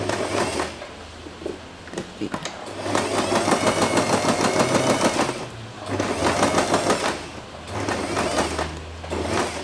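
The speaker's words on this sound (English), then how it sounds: "Now you can stop sewing until here and give it a back stitch to secure the thread." A sewing machine stitches fabric for a bow in rapid, evenly pulsing runs, with several bursts separated by short pauses, close and clear under a quiet spoken voice.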